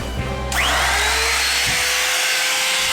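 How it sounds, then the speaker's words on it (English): A router spins up with a rising whine and then cuts access holes in beadboard for an anchor chain locker, giving a loud, steady high-pitched roar that stays close and continuous, with no talk. "Now we're cutting out the access holes with a router for a smooth edge"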